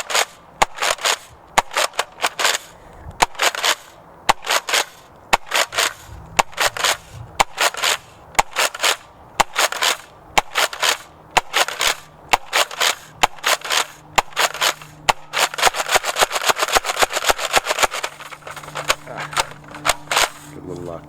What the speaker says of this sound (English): Now let's fire this blaster.